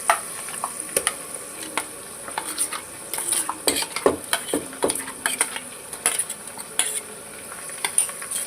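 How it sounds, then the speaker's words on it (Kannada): Ground masala paste sizzles and fries in a hot pan for a methi pulao, with repeated scraping stirs and clinks of a spoon against the metal pan, close and steady without any talk. "ರುಬ್ಬಿಟ್ಕೊಂಡಿರೋ ಅಂಥದ್ದನ್ನು ಹಾಕ್ತಾಯಿದ್ದೀನಿ"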